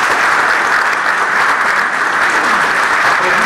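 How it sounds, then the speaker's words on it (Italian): Loud, sustained applause from a crowd at a Giro d'Italia 2020 stage presentation for the Mileto to Camigliatello Silano stage, a thick, even roar of many hands clapping with no clear pauses or speech. "fate un applauso a questi ragazzi"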